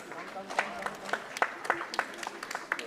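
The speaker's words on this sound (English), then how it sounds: "I request you all to give them a huge round of applause." Audience at a school prize-giving ceremony clapping for the winners, a sparse, uneven patter of separate hand claps rising and falling over a few seconds, with faint room murmur underneath.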